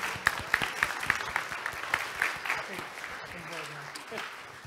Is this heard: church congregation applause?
yes